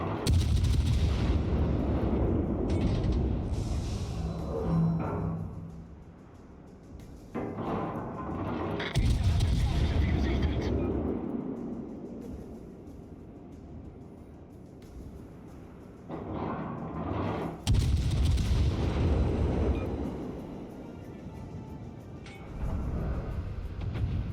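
Heavy naval gunfire from warships in World of Warships while playing the Hindenburg cruiser, with repeated loud booming salvos and rolling rumbles arriving in clusters, each decaying into a low roar before the next volley.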